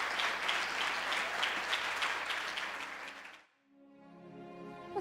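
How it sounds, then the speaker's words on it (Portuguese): Congregation clapping at the close of a church sermon, dense and rhythmic for about three seconds before stopping abruptly, followed by quiet music. "Vamos aplaudir a Jesus."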